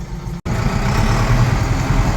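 A Zetor Proxima CL 90 tractor with its original Zetor Stage IIIB engine runs loud and close with a steady low diesel rumble, broken by one very brief dropout early on.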